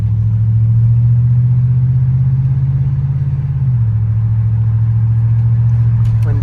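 A 2012 Ford F-150 pickup with an ARH catback exhaust drones low and steady from inside the cab, the pitch dipping slightly partway through as it cruises.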